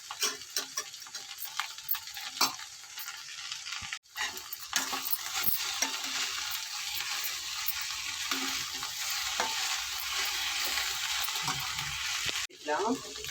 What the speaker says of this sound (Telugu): ఇట్లా చక్కగా వేగుతుందండి